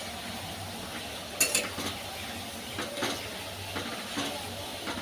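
Semolina and milk dessert with a little ghee being stirred and turned in a pan: soft scraping and clinking of a utensil against metal, with a few sharper clanks over a low, steady kitchen background.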